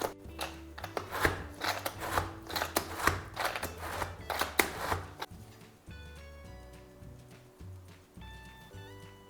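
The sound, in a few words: finely chopping green chili and garlic with a hand cutter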